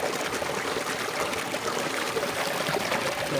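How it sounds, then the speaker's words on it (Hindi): Steady rushing and trickling of water flowing from a pump valve into a vegetable field, continuous and fairly close, with no talking. "इधर पानी जा रहा है। आवाज़ देखो कैसे आ रहा है।"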